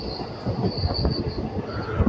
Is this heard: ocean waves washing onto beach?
no